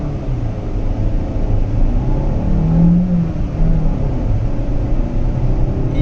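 A 5th-generation Honda City sedan's engine accelerates during a test drive, a steady mid-pitched hum and road rumble holding at an even level throughout with no voices.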